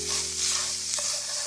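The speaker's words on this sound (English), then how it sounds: "you just want to go ahead and mix it until it's well combined" A spoon stirring black pepper, adobo and Italian seasoning into a mac and cheese mixture, producing a steady close, wet scraping and swishing sound, brief and continuous with no voices.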